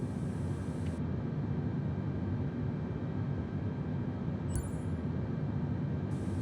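A jetliner engine spooling up during start in a flight simulator game, a steady, loud broadband roar with a low rumble that holds evenly throughout, with no talking.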